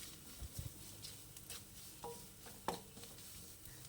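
Ground masala powder for an egg roast is stirred continuously in a hot pan, faint scrapes and light clicks of the spoon over a low, quiet sizzle.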